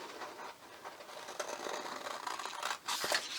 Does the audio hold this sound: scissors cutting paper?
yes